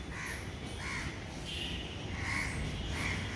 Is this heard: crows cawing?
yes